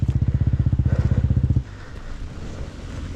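Motorcycle ridden wide open up a coal hill, its engine pounding in a fast, loud pulsing rhythm for about a second and a half before cutting off, leaving wind noise and a faint engine behind.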